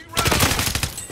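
Rapid automatic gunfire in Call of Duty Modern Warfare on Rebirth Island, a loud close burst of about ten evenly spaced shots in quick succession with a game voice calling out over it.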